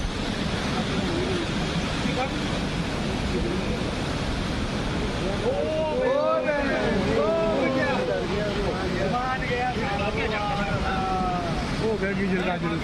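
A raging flood current tears through, a loud, constant broadband roar of rushing water. Narration runs over it and some higher tonal sounds rise and fall in the second half.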